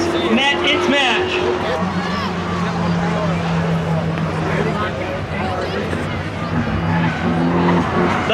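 A Mazda and a Toyota Tundra street drag racing, engines roaring together with tires squealing, loud and continuous while an announcer talks over the action.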